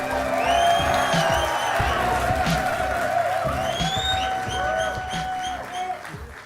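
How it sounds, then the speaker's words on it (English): A live audience at a Clash Royale esports tournament in Helsinki cheers and whoops through a steady crowd roar, loud and sustained over background music with tonal synth lines. "Come on, guys, a round of applause."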